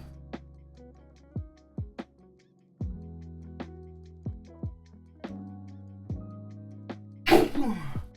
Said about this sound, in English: My moderator sneezed.